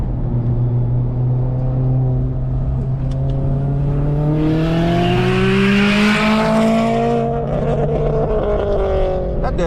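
A Mazda ND3 Miata sports car engine roars loudly and climbs in pitch as it accelerates through gears on a public road, heard close and steady throughout.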